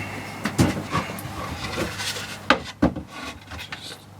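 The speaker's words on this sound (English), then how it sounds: "we're going to pop the holes through where our screws are going to go through" A screw tip is pushed and twisted through a skateboard deck to pierce holes, giving close scraping, rubbing and creaking sounds with a couple of sharp pops, under a low steady hum.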